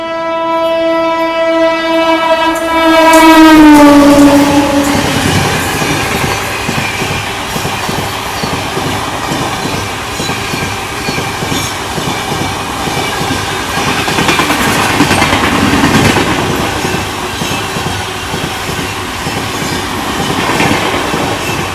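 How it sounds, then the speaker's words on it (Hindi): Sampark Kranti Express overtaking two trains at once on an Indian railway line: a long, loud horn blast opens, then a heavy, close rumble and steady wheel clatter roll on without a break as the train passes. "इस बार ये ओवरटेक दो ट्रेनों को एक साथ संपर्क क्रांति के थ्रू"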